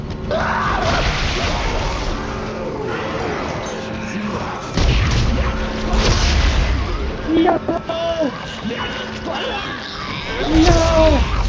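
Rapid gunfire in Dead Space 3 crackles and booms in bursts over busy, dense background noise and some voice activity, loud and continuous throughout.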